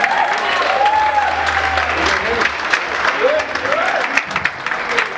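A stand-up comedy crowd gives loud, sustained applause for the comedian, with irregular claps throughout and a voice speaking over it.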